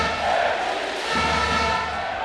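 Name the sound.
loud crowd at futnet world championship final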